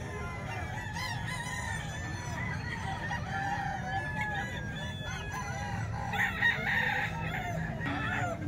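Roosters and hens at a Filipino gamefowl farm keeping local bandit stags, crowing and clucking at moderate distance over a steady low rumble of background noise, with several overlapping calls rising near the end.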